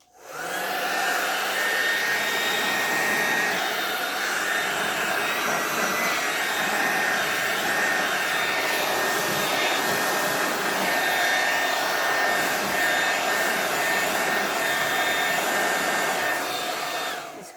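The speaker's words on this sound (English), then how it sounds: "So I'm just going to use the blow dryer a little bit more." A hair dryer blows steadily over acrylic paint on a canvas, giving a continuous loud whirring hiss that runs unbroken for the whole stretch.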